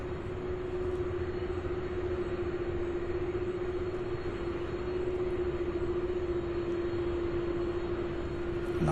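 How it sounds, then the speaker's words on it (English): An aircraft coming in to land on runway 17 right at SDF at night, a steady droning engine roar with a sustained tonal hum, constant and fairly loud, no talking. "is coming here for a landing on 17 right"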